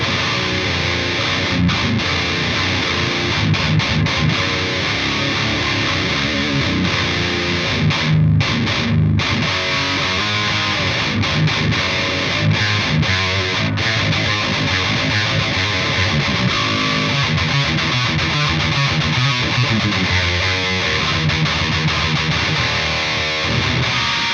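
A heavily distorted electric guitar through an amp-modelling preset with a scooped, hollow midrange plays continuously and loudly, chugging riffs without any voices.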